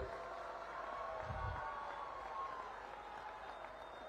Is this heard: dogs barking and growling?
no